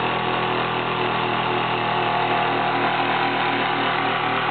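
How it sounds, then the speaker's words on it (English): Onboard air compressor in an RC submarine runs steadily to build pressure, giving a loud, continuous motorized whine with a faint rhythmic pulsing and no pauses or voices. "The compressor kicks in. building up pressure."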